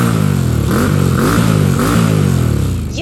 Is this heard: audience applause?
no